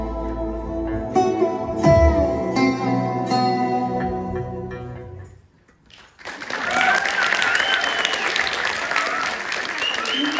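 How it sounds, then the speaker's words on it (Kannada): Recorded music ends, then an audience at a Deepavali stage performance breaks into loud, sustained applause, with scattered voices mixed into the clapping. "ಚಪ್ಪಾಳೆ ಬರ್ತಾನೆ ಇಲ್ಲಿ"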